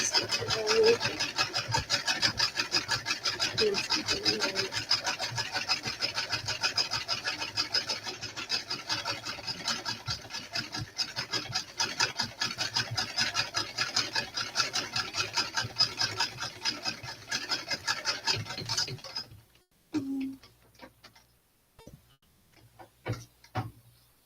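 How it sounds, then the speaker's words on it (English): Steady rapid rhythmic scraping against wood goes on close by for about twenty seconds, then stops, leaving a few scattered faint ticks and taps. "Just scrape on this side."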